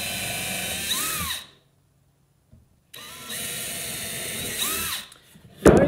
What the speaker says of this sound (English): I'm trying to hold the drill nice and straight